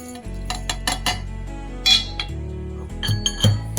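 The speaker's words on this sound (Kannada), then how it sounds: "ಇದನ್ನು ಒಂದು ಸ್ವಲ್ಪ ಕುಟ್ಟಾಣಿ ಒಳಗೆ ಹಾಕಿ ಕುಟ್ಟಬೇಕು" Salt, cumin, pepper and ghee pounded in a mortar for rasam, heard as repeated close, hard knocks with metallic clinks, steady and loud with no talking.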